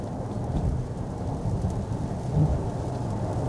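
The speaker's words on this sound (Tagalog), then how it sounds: "Mas malakas kanina yung ulan." Steady rain with low thunder-like rumble heard from inside a car driving on a freeway in West Covina, California; a dense, continuous wash of noise with deep rumbling throughout, no voices.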